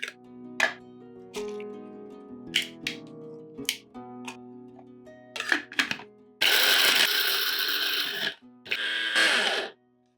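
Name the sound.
coffee grinder grinding spices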